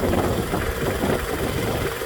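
A 2002 Toyota Camry XLE's 2.4-litre four-cylinder engine idles steadily with a constant low rumble and mechanical hum, no voices.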